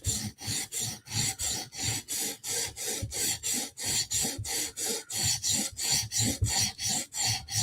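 The tip of a Spyderco knife is sharpened on a stone by hand, producing a brisk, even series of rasping strokes, about three per second, close and clear with no voices.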